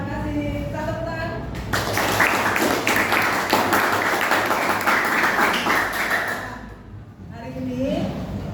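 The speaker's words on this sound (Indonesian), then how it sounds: "Kita tepuk tangan." A class claps hands together in a school guidance session, a loud burst of sustained group clapping that runs for several seconds before fading, with voices briefly heard before and after.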